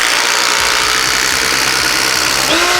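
A Flex driver on a 2.5 Ah stacked lithium battery driving a 6-inch Spax screw, a loud, steady, high-pitched motor whine with impact hammering that runs continuously, with a slight change near the end.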